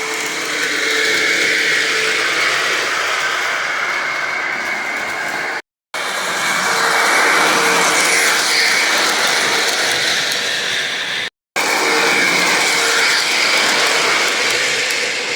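A cartoon train races along at speed, a steady, loud mechanical clatter and rumble that cuts out twice in brief sharp breaks.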